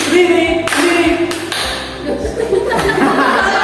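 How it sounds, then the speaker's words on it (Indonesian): Classroom students clap their own hands in a clapping game, a few sharp, separate claps ringing out near the microphone while a teacher speaks and children chuckle. "Tepuk sendiri, kanan."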